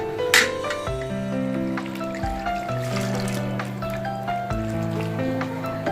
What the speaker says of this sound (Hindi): अब हम इसमें पानी ऐड करेंगे।